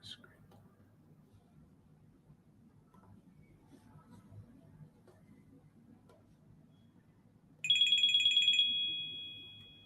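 A phone ringtone chimes as a clear, repeating electronic tone that starts abruptly near the end after a stretch of quiet room murmur and faint speech.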